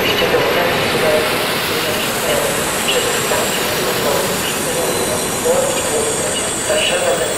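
A PKP Intercity EU160 electric locomotive pulling into Poznań Główny station with a steady loud rumble of wheels on rails, a hissing wash and faint squeals throughout.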